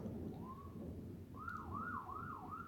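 A faint police siren wails in the distance in the video game Super Hero Life II, first a single rising tone, then a repeating up-and-down yelp over a low rumbling background.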